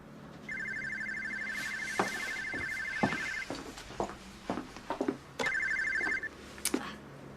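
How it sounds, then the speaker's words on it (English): Telephone ringing in a home setting, two bursts of electronic trilling bell, the first about three seconds long and the second shorter, with knocks, footsteps and handling noises between. "Phone!"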